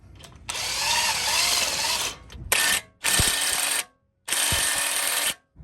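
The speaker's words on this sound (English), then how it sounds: "I'm just using my 1/2" DeWalt gun because it's stronger than my 3/8 to pull the lug nut studs into the hub face" DeWalt 1/2 inch impact gun hammering lug nut studs into a wheel hub face, three loud close bursts of rapid rattling impacts, the first long and the others shorter, separated by brief pauses.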